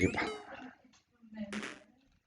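A dog barks in the background indoors, a couple of short yapping bursts separated by a brief pause, fairly faint and mixed with other household sound.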